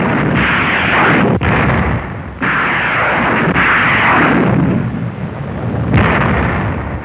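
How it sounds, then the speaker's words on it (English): Archival newsreel battle sound of destroyer naval gunfire and a rocket barrage during the Korean War landings: continuous loud roaring, rumbling blasts with a few sharp cracks, a dense unbroken bombardment with no talk. "Destroyers open up. Rockets take it from there."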